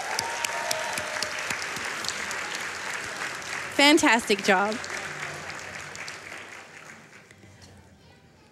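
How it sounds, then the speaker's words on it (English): A crowd applauds continuously at a Games Done Quick speedrun event, clapping tapering off gradually toward the end, with someone briefly speaking over it midway. "Can we get another round of applause"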